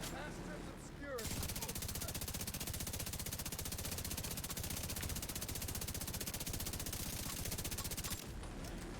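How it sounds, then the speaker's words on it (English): A minigun roars in The Division 2 video game, a continuous rapid buzzing stream of fire lasting about seven seconds at close, loud level, with quieter game sounds before and after. "Hit that mini gun!"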